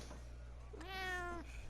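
A cat in the video game Dragon Age: Inquisition lets out a single short meow over a steady low background hum, clear and moderately close, with no talk.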